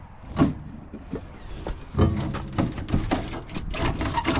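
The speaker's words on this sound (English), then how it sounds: "My door opened, I could get in and show you." The door of a restored Kenworth truck opens with a few mechanical clunks and rattles, a louder thump near the middle followed by irregular knocking and latch noises close by.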